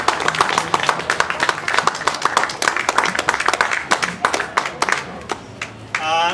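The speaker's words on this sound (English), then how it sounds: "can I have a round of applause for Barry Gardiner for agreeing to come and speak?" An audience applauds speaker Barry Gardiner, a dense burst of clapping that is loud and sustained for several seconds before it thins out near the end, with a brief voice at the close.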